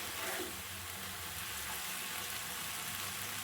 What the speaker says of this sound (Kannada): ಇದೊಂದು ಸ್ವಲ್ಪ ಹೊತ್ತು ಫ್ರೈ ಆಗಲಿ